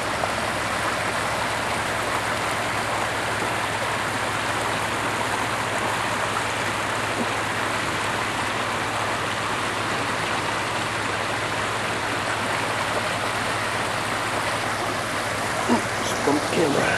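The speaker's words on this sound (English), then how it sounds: "Creek." A creek flows steadily along the South Fork Salmon River route toward Warren, Idaho, a constant broadband rush of water that stays even and fairly close for the whole stretch, with no voices over it.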